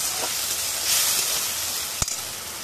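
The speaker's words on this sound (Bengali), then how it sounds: "এটা এখন মশলাটাকে আমি ভালো করে ভেজে নেবো যাতে কাঁচা গন্ধটা না থাকে" A spice paste of onion, ginger, garlic and tomato with turmeric and chili powder fries in a pan with a steady, close sizzling hiss, broken once by a brief sharp click near the end.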